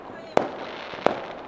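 Diwali firecrackers burst outdoors in the evening: two sharp, separate bangs about 0.7 seconds apart, each with a short ringing tail over a steady background hum and faint voices.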